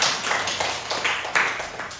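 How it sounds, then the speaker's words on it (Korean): A church congregation claps briefly for a young member, a dense, steady patter of many hands lasting a couple of seconds and filling the room. "여러분, 우리 주성이에게 박수 한번 보내주시죠."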